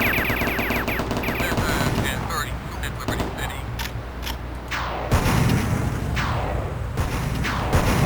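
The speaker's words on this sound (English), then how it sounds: "Here's our machine gun." Rapid machine gun fire from Duke Nukem 3D, dense and loud, layered with clanking mechanical game effects and sharp impact booms throughout.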